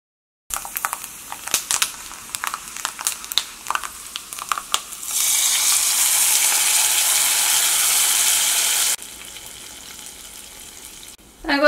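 Mustard seeds crackle and pop in hot oil for a chickpea curry, scattered sharp snaps at first, then a loud steady sizzle that cuts off abruptly, followed by a brief clatter.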